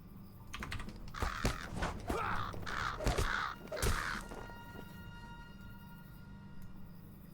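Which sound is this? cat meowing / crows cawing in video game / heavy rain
crows cawing in video game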